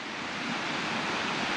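Ocean waves wash against a rocky beach along the far eastern Canadian coast, heard as a steady, broadband rush of surf mixed with wind noise, continuous and fairly loud with no voices.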